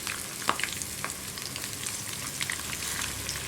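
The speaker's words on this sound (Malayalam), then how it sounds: "അതിലേക്ക് നമ്മൾ മുളകും മഞ്ഞൾപ്പൊടിയൊക്കെ പുരട്ടി വെച്ചിരിക്കുന്ന മീൻ ഇട്ട് കൊടുക്കാം" Fish pieces marinated in chili and turmeric frying in hot coconut oil, a steady, close crackling sizzle with a few sharper pops and a light scrape near the start.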